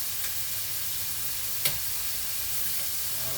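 Seasoned pork chop strips sizzle in a frying pan, a steady close hiss of hot oil with one brief clatter partway through and no talk.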